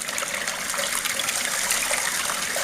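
Water rushes in a continuous, loud gush as a fine-gold sluice is dumped into a pan, a close, steady splashing flow with no talk.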